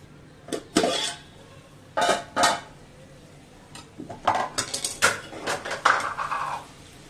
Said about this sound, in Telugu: చేపలు వేసుకోవాలి. చేపలు వేసుకుంటాం.